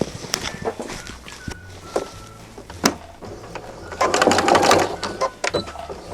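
A sewing machine runs a straight seam on fabric for a craft manicure kit. There are short intermittent bursts of fast mechanical stitching with clicks and handling noises between, and a louder sustained run near the end.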